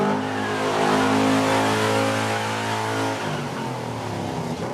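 An expensive, roughly two-million-dollar car's engine on a film set, running close and loud with a steady revving tone that rises and then drops off as the car is moved.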